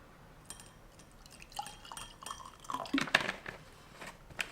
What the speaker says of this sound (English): Hit some water.